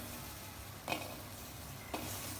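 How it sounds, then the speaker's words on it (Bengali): Small potato pieces frying in a pan over the flame, a faint, steady sizzle with two light clicks of a utensil. "চুলার আঁচে আমি আলুটা ভেজে নিব।"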